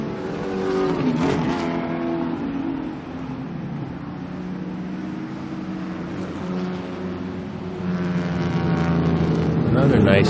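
A 1969 Corvette races at a vintage car event at Lime Rock, its loud engine roaring and revving steadily throughout, with the tone rising and falling as it passes, under a commentator's continuous talk.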